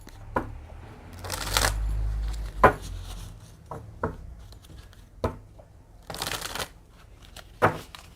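Tarot cards being shuffled and drawn at close range, heard as several riffling bursts with sharp taps and flicks between them, with no talking.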